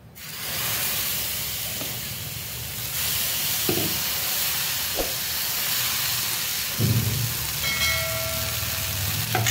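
Batter mixed with yogurt and a pinch of soda spreads onto a hot pan, giving a steady steam-like hiss and sizzle that runs nearly the whole time, with a few soft clinks.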